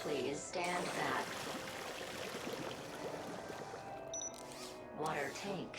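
The robot Waterboy sprays water in the video game Beyond a Steel Sky, a steady hissing, trickling stream with soft splashes, briefly swelling louder near the start and end, and a short electronic voice over it.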